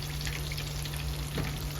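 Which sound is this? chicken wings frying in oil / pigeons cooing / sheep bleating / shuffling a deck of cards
chicken wings frying in oil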